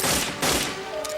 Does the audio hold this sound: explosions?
yes